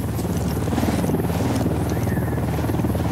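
Video game helicopter flying close, a steady throbbing rotor chop with an even drone over a tactical open-world setting.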